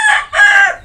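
A rooster crows once, loud and close, a short two-part call with a rising start and a sustained, slightly falling finish, heard alone.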